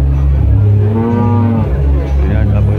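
A female PH dairy cow, first-prize winner from Jombang at a Sidoarjo cattle contest, gives a long, loud moo over steady low crowd and showground rumble.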